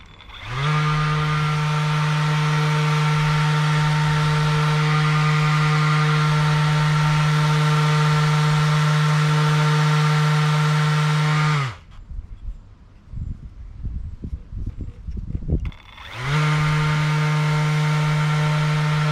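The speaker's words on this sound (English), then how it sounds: "I'm going to use 240 grit on my random orbital to get it smooth" A random orbital sander with 240 grit paper works on wooden coasters soaked in Danish oil, a loud steady whirring hum that spins down to stop, followed by a few seconds of handling clatter before it restarts.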